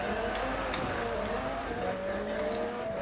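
A McLaren MP4-12C in Forza Horizon 4 driving hard, a steady engine drone with gliding pitch as it brakes and shifts, constant and moderately loud with no break.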